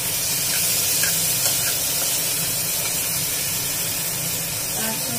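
Tomatoes and green chillies sizzle in a pan with broccoli and potato for a sabji, a steady loud hiss that runs without a break.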